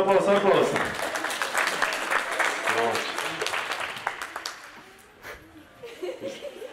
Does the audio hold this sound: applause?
yes